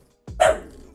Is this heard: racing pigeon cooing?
no